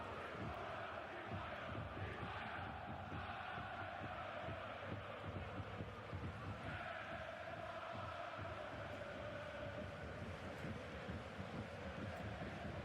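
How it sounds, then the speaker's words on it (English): Football stadium crowd at the Bernabeu during a Champions League quarter-final first leg, a steady wash of distant chanting and roar with no one speaking over it. "Okay, crowd noise is back."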